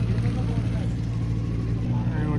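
A four-cylinder McLaren sports car engine gives a deep, throaty rumble close by, steady for a couple of seconds, with someone talking over it.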